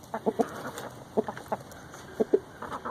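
A rooster clucks in short, quiet bursts, pairs of clucks repeating every second or so against a faint outdoor background.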